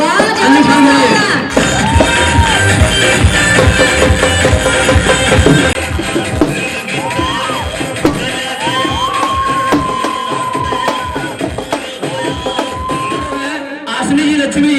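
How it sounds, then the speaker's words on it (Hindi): Audience at a stage event, likely an awards ceremony, cheering and whooping steadily throughout, with loud crowd noise, shouts and what may be applause under music-like tones, all near and sustained. "मैं चाहूंगा शानदार ताली देंगे अंजुम खान के लिए"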